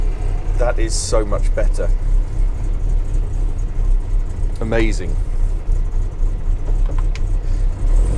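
The engine of a Land Rover Series III being fixed for a misfire and running on full choke holds a steady low idle throughout, with people talking briefly over it.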